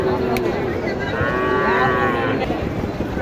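At a busy cattle market in Naogaon, a Sahiwal bull gives a single drawn-out moo over loud, steady crowd noise and background chatter.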